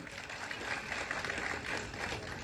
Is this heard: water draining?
no